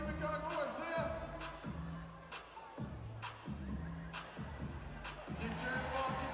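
Basketball game crowd in an arena during a Wellington Saints vs Taranaki Airs NBL match, a continuous loud roar of cheering with rhythmic chant-like pulses and broadband shouts, dense and steady throughout.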